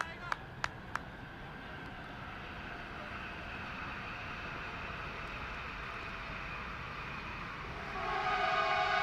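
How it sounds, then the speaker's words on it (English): A train horn sound effect from an old train coming in, played during a T10 cricket broadcast: three short sharp blasts, then a long sustained horn chord that swells louder near the end. "The old sound effects from the old train coming in."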